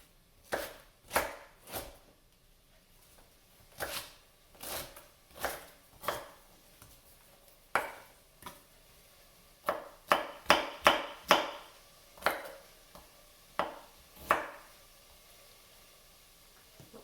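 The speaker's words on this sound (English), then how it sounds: "And now I'm just finishing chopping the onion." An onion is chopped with a knife on a board for leek and potato soup, a series of crisp close chops in an uneven rhythm, some in quick bursts, with no talk.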